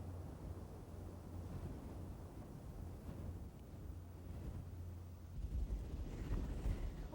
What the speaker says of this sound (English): What a wind!